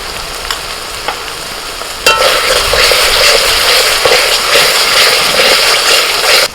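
Masala with coriander and cumin powder is stirred in a hot pan for chicken malai kofta, a few light taps first and then a sudden loud, steady sizzle with scraping that holds to the end.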